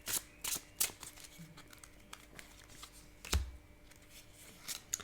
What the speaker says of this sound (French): je vais recouvrir aussi ces cartes